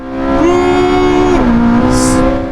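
A Porsche 918 hypercar roars loudly and close during a race, its engine note climbing, dipping with a gear change and pulling away, with a short tire squeal near the end.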